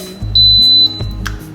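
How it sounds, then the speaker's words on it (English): An Instant Pot pressure cooker beeps once after being set, a single loud, steady electronic tone lasting about half a second with a low hum beneath it. "So the beeping just lets you know that it's set"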